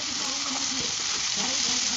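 A spice paste of ground chilli fries in a pan while being stirred for ghugni, producing a steady, close sizzle. No one talks over the sound.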